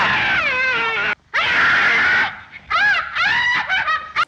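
A woman in the 1933 film The Invisible Man screams in loud, shrill, wavering bursts, one long cry and then several shorter broken shrieks after a brief pause.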